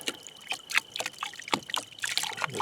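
Thick, viscous liquid is poured onto an ore sample, giving irregular splashy trickles and drips in uneven bursts, close and moderately loud with no speech.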